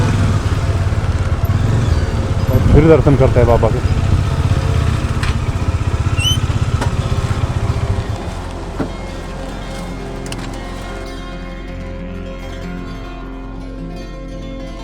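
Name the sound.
motorcycle being parked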